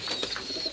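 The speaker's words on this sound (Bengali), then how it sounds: "এই দেখুন ঘুঘু" Native dove cooing among nesting birds, a soft, brief coo close by, alone without talk.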